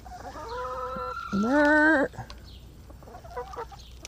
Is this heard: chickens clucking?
yes